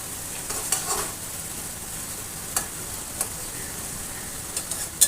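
Leftover pumpkin scraps fry quietly in a pan with a soft, steady sizzle, broken by a few faint clicks of a spatula against the metal.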